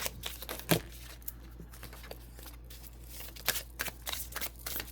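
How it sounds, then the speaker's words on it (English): A tarot deck with gold foil edges is shuffled in quick riffles, with crisp flutters and light card snaps, recorded close and quiet with no talking. "I'm just wanting to know if this is going to be a good deck to shuffle"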